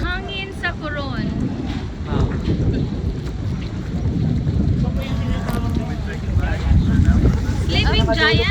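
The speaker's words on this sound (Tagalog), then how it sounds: "Mahangin sa Coron." Strong coastal wind buffets the microphone in Coron, a rough, gusty low roar rising and falling throughout, with people talking and chatting over it.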